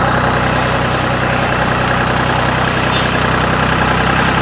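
A tractor engine idles steadily and loudly up close, a constant low rumble with a mid-pitched mechanical texture that holds unchanged throughout with no talk.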